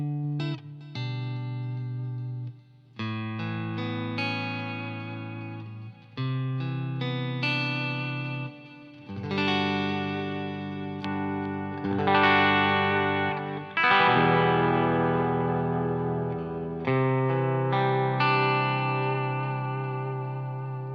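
Electric guitar through an Audio Kitchen Small Trees overdrive pedal into an amp, played continuously as sustained chords and melodic lines with a warm, mildly broken-up distorted tone and a touch of reverb, loud and steady with brief pauses between phrases.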